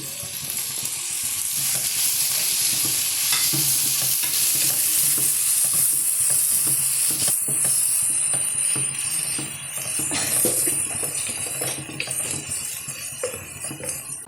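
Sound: frying chopped tomatoes in a pan for aloe vera curry

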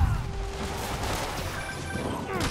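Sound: gunfire in Spider-Man video game

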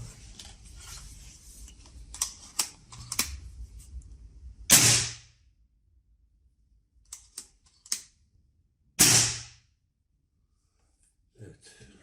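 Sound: Reximex Meta PCP air rifle shot with silencer

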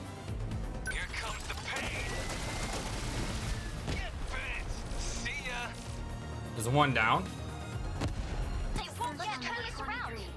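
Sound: video game explosions and gunfire

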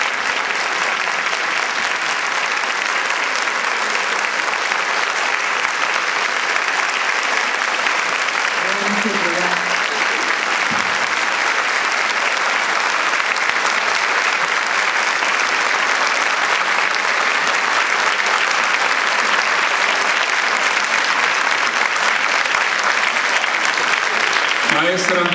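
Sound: applause from a full auditorium

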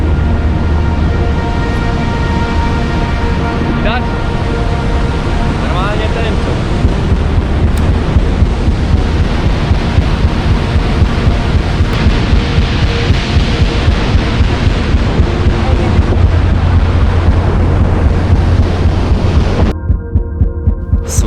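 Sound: waterfall, falling water

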